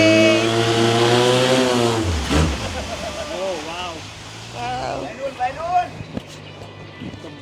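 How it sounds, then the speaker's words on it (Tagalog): A loud motor roars on a vehicle in Bangkok, a droning engine whose pitch shifts as it revs, with people talking over it. "The motor is so loud."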